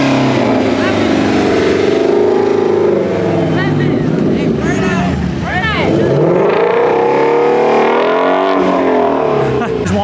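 A Ford GT350 revs hard amid a crowd of exotic cars on a city street, its engine note rising and falling in loud bursts, with other engines and people talking around it.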